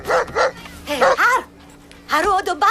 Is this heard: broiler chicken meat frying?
no